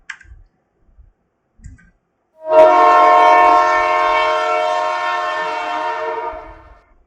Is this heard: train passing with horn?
yes